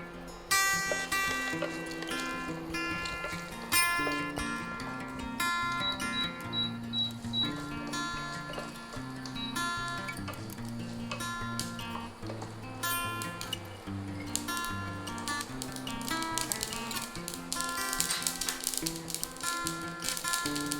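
Mustard seeds and dried red chillies tempering in a little hot oil give scattered, rapid crackles and pops, heard over steady background music.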